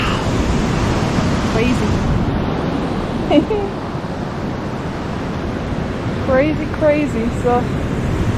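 Surf washes onto a quiet beach in Chacahua, Mexico, a loud continuous roar mixed with wind buffeting the microphone, while a few voices speak briefly over it.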